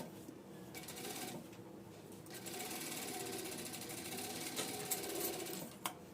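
A sewing machine stitches a blouse sleeve in a tailoring lesson, running in a steady continuous whir with a few brief clicks and rises in speed, no talking over it.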